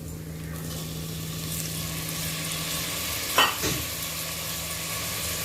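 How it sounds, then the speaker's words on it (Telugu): Garam masala fries in a pan for egg rice, a steady hiss of sizzling oil under a low background hum, broken once by a brief clink of a utensil midway. "ఇది గరం మసాలా కొంచెం యాడ్ చేస్తున్నాను. ఇది కొంచెం ఫ్రై చేస్తాను."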